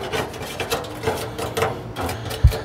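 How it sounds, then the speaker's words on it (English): A small plastic scraper scrapes gunk from inside a Weber SmokeFire pellet grill in quick, repeated rasping strokes, close and moderately loud, with a soft knock near the end and nobody talking. "So this tool came with Weber, and it's a little plastic scraper."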